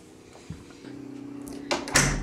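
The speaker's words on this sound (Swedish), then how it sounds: "Stäng dörren." A door is pushed shut indoors at night, ending in a sharp knock-like thud after a faint rustle and softer bumps, fairly close and heard without talk.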